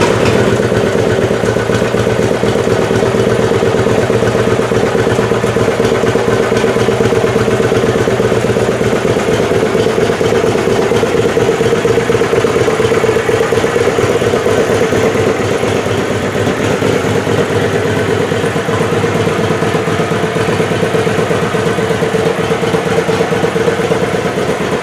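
A motorcycle engine idles steadily as it warms up, a loud, close, continuous rumble that holds an even pitch for the whole stretch with no voices.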